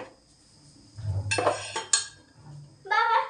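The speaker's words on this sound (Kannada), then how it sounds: "ಒಗ್ಗರಣೆ ಬಾಣಲೆ ಇಡ್ತಾ ಇದ್ದೀನಿ" Metal pots and utensils clank and scrape close by as a tempering pan is set on a stove, a few separate knocks and clinks over about three seconds, with a soft low thump underneath.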